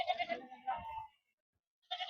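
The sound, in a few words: sheep bleating at a sheep market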